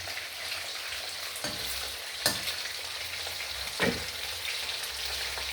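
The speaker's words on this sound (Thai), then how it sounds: "คลุกๆเสร็จแล้วก็เอามาทอดรับรองไม่ติดกระครับ" Flour-coated catfish frying in oil in a pan, a steady close hiss with a few sharper spatters and pops rising out of it, no voices.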